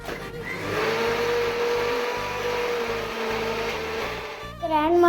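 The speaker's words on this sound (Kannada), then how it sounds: "ಸ್ವಲ್ಪ ಮಿಕ್ಸಿಗೆ ಹಾಕ್ಕೊಂಡು ರುಬ್ಬ್ರಿ" Mixer grinder grinding peanut chutney, a loud steady motor whine with a churning rattle that runs throughout and shifts pitch near the end, heard alone and close.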